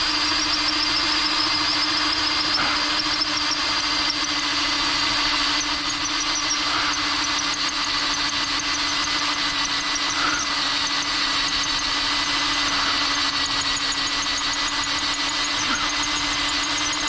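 A power drill bores into limestone with a loud, unbroken grinding whine that runs steadily from start to finish, close up and with no voices over it.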